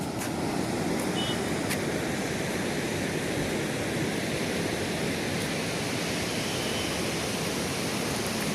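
Water released through the 52 gates of the Shah Nahar barrage at Talwara into the Beas river, a loud, steady, broadband roar of rushing water filling the whole clip without a break.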